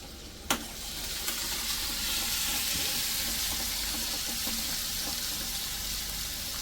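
Garlic fries in hot oil with a loud, steady sizzle close by, opened by a sharp clink of a utensil against the pan, with faint stirring scrapes underneath and no talk.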